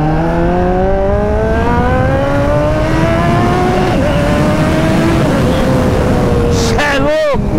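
Kawasaki ZX-14 motorcycle from 2011 with a full 2.5-inch stainless Atalla exhaust, accelerating hard with a rising engine whine that climbs through gears, loud and close, with a sharp roar near the end under wind noise and someone talking.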